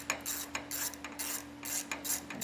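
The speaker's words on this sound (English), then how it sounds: "we're using a 9/16 socket, and we're just going to pop these 3 bolts out" A hand ratchet with a 9/16 socket works bolts loose on an electric trailer jack, a close series of quick ratcheting clicks and rasping in short repeated strokes against a steady background hum.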